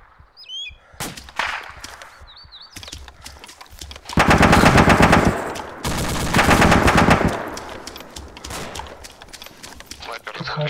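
Gunfire in the ArmA 2 ACE military game, with scattered single shots and then two loud sustained bursts of automatic fire, heard mid-range over game ambience and someone talking.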